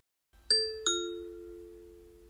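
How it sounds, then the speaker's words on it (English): Ring Video Doorbell chime played through an Amazon Echo speaker, a clean two-note ding-dong with the second tone ringing out and slowly fading, heard alone in quiet surroundings. "when you press the doorbell, you get greeted with this"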